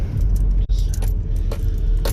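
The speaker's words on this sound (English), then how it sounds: "Them keys banging around the place is very," Keys jangling and clanking in a short burst of metallic rattles, close and loud, with a car's engine rumbling steadily underneath.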